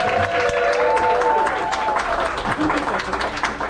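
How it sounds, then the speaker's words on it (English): Comedy-club audience at Ada's Lab in Seattle applauds and cheers between stand-up sets, a dense, steady wash of clapping with a few whoops riding on top for about four seconds. "Another round of applause for the amazing Caitlin Duffy."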